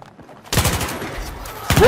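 Gunfire in the video game Battlefield 3 breaks out as a loud rapid burst of shots after a quiet start, with a second burst at the end.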